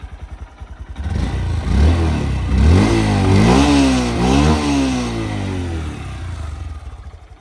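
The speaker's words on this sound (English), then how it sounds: "let's hear her purr. Fires right up. Runs good. Super quiet." Honda Grom motorcycle engine, the cheapest one bought in America, firing up close by: a short cranking patter, then the engine catches and revs in a few rising and falling blips before settling to a steady running drone.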